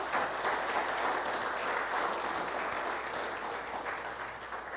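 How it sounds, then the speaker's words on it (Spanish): Church congregation clapping during a sermon, a broad, steady patter of many hands applauding together, moderately loud and tapering slightly toward the end, with no talking over it. "¿Cuántos le dan un aplauso al Señor?"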